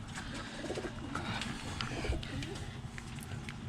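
Birmingham roller pigeons coo softly in a loft, low rolling calls overlapping in a dense, steady murmur from several birds close by.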